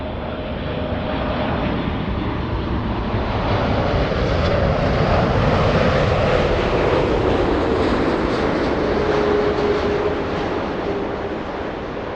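A large jet airliner on landing approach at Los Angeles International Airport roars past at close range, a broad steady rumble swelling and then easing over about twelve seconds.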